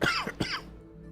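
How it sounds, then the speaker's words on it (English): A person breaks into a quick coughing fit: two or three harsh, close coughs in rapid succession, then a short throat-clearing tail. "another coughing fit"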